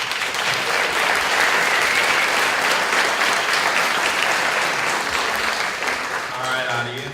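An audience at a Democratic primary candidate forum for the Kansas 3rd Congressional District breaks into sustained applause, a dense, loud wash of clapping that fades slightly near the end.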